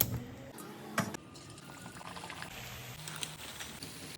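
Chakkalu rice crackers deep frying in hot oil, bubbling and crackling at close range with a sharp clatter near the start, then a steady, fairly quiet fizzing sizzle.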